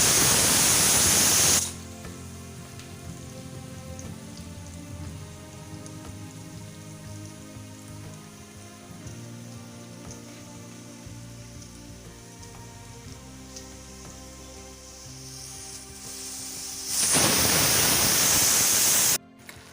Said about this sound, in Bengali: এখানে আমি পেঁয়াজগুলোকে খুব লাল লাল করে ভেজে নেব।